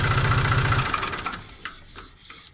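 Tractor diesel engine shut off with its mechanical stop lever on the injection pump, a steady close chugging idle that winds down and dies within about a second, followed by a few faint mechanical clicks.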